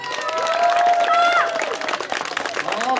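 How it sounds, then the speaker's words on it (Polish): Crowd of children and parents at an outdoor kindergarten festival applauding and shouting, with clapping and excited voices mixed over a loud, lively background. "Wielkie brawa!"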